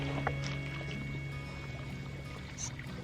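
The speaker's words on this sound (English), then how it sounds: "The creek is flowing again a little bit." A small creek trickles quietly and steadily, its water flow faint and gentle, with a few soft outdoor sounds over it.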